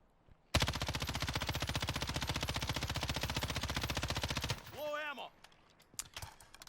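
In the Warzone video game, an M13 rifle fires a long, loud, rapid automatic burst of evenly spaced shots lasting about four seconds, followed by a brief metallic clatter and scattered fainter clicks.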